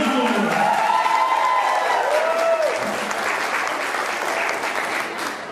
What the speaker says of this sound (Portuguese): depois dessas calorosas salvas de palmas